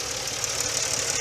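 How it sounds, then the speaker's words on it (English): A 1997 Nissan Maxima engine idles smoothly in stock condition, a close, steady low hum with faint mechanical ticking and no speech. "As you can hear, it's idling perfectly fine."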